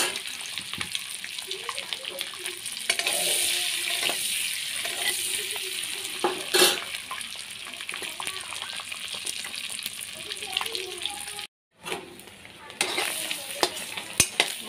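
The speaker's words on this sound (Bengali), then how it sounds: "এখন দিয়ে দেব সিদ্ধ করা ডিমটা, ডিমটা হালকা ভেজে নেব" Boiled eggs fry lightly in hot oil in a pan, giving off a steady, close sizzle with scraping stirring sounds, briefly cutting out before the frying resumes.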